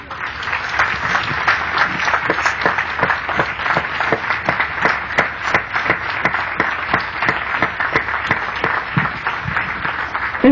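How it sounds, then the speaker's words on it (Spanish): A church congregation applauds during a sermon, many hands clapping in a steady, fairly close rhythm that holds for about ten seconds with no talking over it. "Le damos un aplauso a Jesús."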